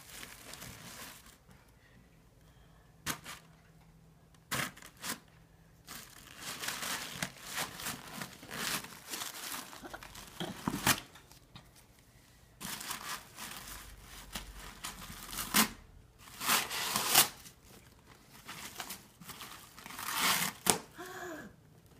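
Paper crinkles, crumples and tears in repeated bursts as a hand punches through the paper-covered holes of a countdown punch box, close and fairly loud, with brief quiet gaps between the rustling episodes.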